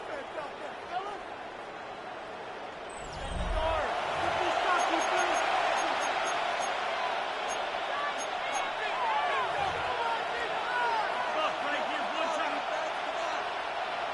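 Steady crowd roar from a simulated stadium in an EA Sports NFL football video game, swelling loudly after the first few seconds and holding through to the end, with faint thumps and calls layered into the broadband din.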